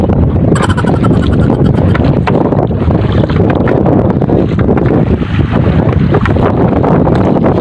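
Strong southwest monsoon wind roars across a small fishing boat at sea, a steady, loud buffeting rush with gusty swells that never lets up.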